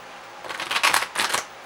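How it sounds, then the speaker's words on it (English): A tarot deck is shuffled in two quick bursts of riffling card flutter, close and crisp, with no talking. "more shuffling."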